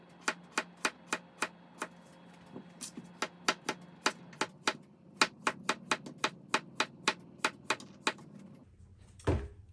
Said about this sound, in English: So you just take your knife and you just gently go down the potato like this.